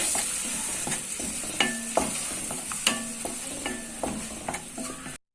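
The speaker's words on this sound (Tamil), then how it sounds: "இப்போ ஒரு கடாயில் எண்ணெய் சேர்த்துக்கிட்டு அதில் நம்ம அரைச்சி வச்சுருக்க வெங்காய பேஸ்ட்டை சேர்த்துடலாம்" Onion paste hisses in hot oil in a kadai while a spoon scrapes and taps steadily against the metal, a continuous close sizzle with no voices, cut off abruptly at the end.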